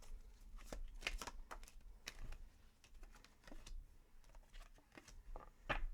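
Tarot cards being shuffled, quiet papery riffles and soft flicking taps in uneven bursts, close and faint, with no talking.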